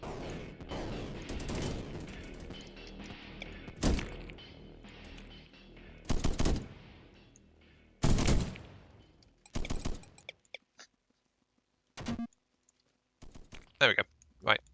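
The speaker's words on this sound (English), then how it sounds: "the basic gun turrets though have been holding the line there." Basic gun turrets in a video game fire in short, sharp bursts, a cluster of clicks and shots separated by pauses, while a voice talks over the first stretch.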